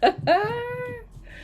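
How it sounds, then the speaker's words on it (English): A house cat gives one short chirp and then a drawn-out, rising-then-falling meow, close and clear indoors. "The cat's getting spoilt."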